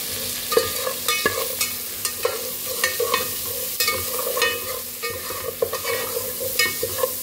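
Salt and a little turmeric being stirred into a frying pan, a spoon scraping in repeated strokes over a steady sizzle, close and fairly loud with no voices.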